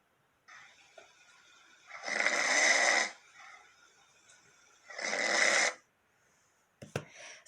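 A person snores in two long, loud rasping breaths, with quieter breathing between them and a brief click near the end.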